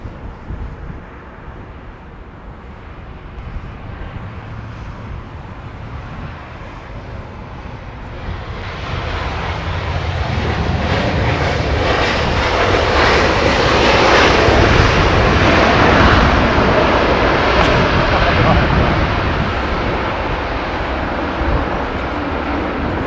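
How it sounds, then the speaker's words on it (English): A Qatar Airways Airbus A380 departs, its engine roar building steadily from a distant rumble to a loud, broad sustained thunder that lingers as it climbs away, with no talking. "Qatar 380 out of the hold"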